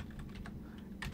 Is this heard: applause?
no